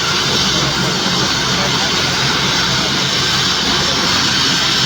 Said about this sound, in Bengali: এই হেলিকপ্টারটি উঠে যাওয়ার পর